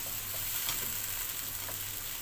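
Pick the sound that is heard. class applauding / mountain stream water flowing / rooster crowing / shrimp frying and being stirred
shrimp frying and being stirred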